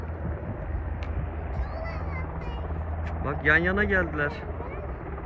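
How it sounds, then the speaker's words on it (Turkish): Two helicopters fly overhead side by side, a low continuous rotor rumble that stays faint and distant beneath a person speaking. "Havada helikopterler var."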